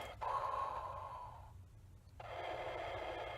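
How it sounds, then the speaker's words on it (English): Deep, mechanical-sounding Darth Vader style breaths in and out from a diving suit, a long inhale followed by a pause and another exhale, with a hollow, masked, electronic tone. "Hopefully you can hear the deep breathing."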